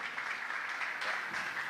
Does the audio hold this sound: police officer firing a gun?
no